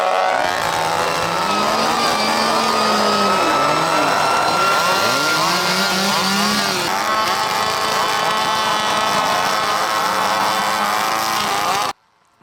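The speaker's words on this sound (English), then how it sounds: "one thing that got on my freaking nerves were these damn chainsaws" Several chainsaws revved by spectators at a 4X mountain bike race, loud overlapping buzzing engines rising and falling in pitch for about twelve seconds before cutting off abruptly.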